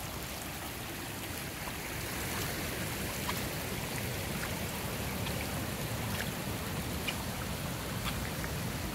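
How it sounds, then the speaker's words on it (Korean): Flooded river rushing past steadily, a broad continuous roar of moving water with faint splashes, heard from the bank at moderate distance and without any voices. "이쪽에는 강물이 범람해가지고 피해가 엄청나네요."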